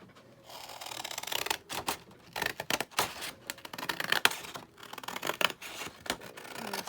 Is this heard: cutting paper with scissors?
yes